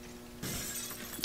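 Flashbang grenade going off in Counter-Strike: Global Offensive, heard as a sudden bright burst with a ringing, glassy hiss that holds on afterwards, ending in a short sharp click.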